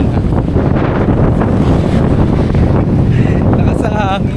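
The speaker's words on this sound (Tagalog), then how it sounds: "Lakas sa hangin, grabe." Strong wind roars and buffets the microphone by the sea near a pier, a loud continuous rumble with a voice briefly heard under it.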